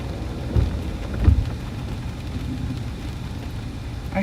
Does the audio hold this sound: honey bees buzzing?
no